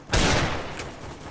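Desert Eagle pistol fire in the Free Fire video game during a Clash Squad match in Kalahari, a short burst of a few sharp shots that quickly fades, with no talk.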